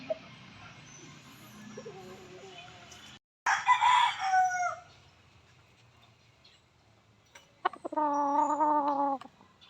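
Chickens and gamecock roosters at close range: low clucking and scratching, then a loud rooster crow, a quieter stretch and a second long crow near the end.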